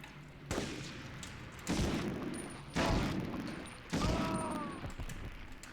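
Gunfire in the video game Medal of Honor: four loud, separate shots spaced about a second apart, each with a long decaying echo and a faint metallic ring after one of them.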